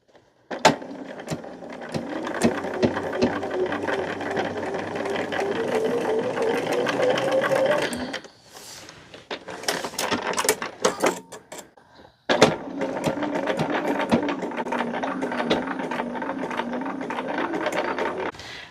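A sewing machine runs close up top stitching a fabric picnic caddy, a long steady whirring run, a pause with clicks and handling, then another sustained stitching run.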